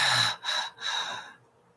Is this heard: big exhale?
yes